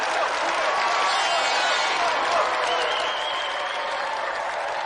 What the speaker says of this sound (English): let's have another round of applause for Mike Bedford and the reigning champion